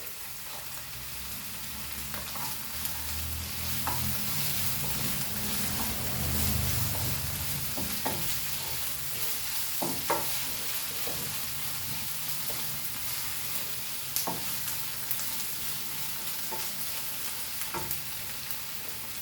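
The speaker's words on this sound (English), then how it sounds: "Now we'll saute our chilies in this." Chilies sauté in a pan for a Goan-style dry prawn and cabbage kismur, a continuous moderate sizzle with scattered stirring clicks and scrapes throughout, no talking.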